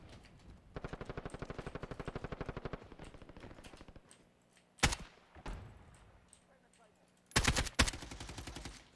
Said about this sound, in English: I was trying to shoot to distract him.